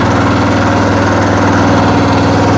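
A diesel walk-behind tractor's engine runs steadily in reverse, a loud, close, continuous throbbing drone with an even rhythmic chug throughout, with no talk.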